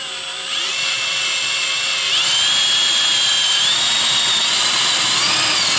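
A power drill bores corner holes into the roof of a VW Crafter van during a camper conversion, giving a loud, steady, high-pitched whine that holds for several seconds with slight shifts in pitch.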